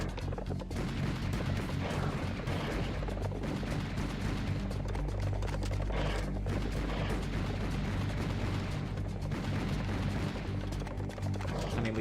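Dense, continuous gunfire and explosive blasts from the Serious Sam Fusion first-person shooter, a relentless layered barrage of shots and impacts with no talking.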